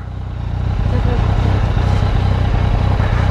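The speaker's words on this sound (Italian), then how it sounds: "la moto è salita anche di temperatura." A Yamaha MT-09 motorcycle engine runs close by on a cold night ride toward mountain roads, a loud steady low rumble that swells slightly at the start and holds, with a voice speaking over it.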